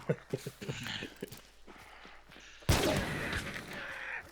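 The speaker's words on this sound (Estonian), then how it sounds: "Nad vist hakkasid omavahel seal laskma." Gunfire in a multiplayer video game, a rapid run of sharp shots early on, then a loud burst of firing partway through, with speech in places.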